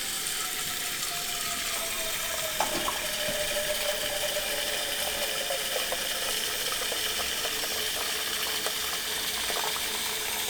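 Water pours steadily into a cooking pot for Thai rice, a continuous hissing splash with a faint rising tone as the pot fills, close by and without speech.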